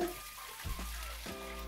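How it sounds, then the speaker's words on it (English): Tap water runs steadily in a Brooklyn pizza shop kitchen, a soft continuous rushing with faint clunks, fairly quiet and without speech. "we only use the finest of New York City tap water"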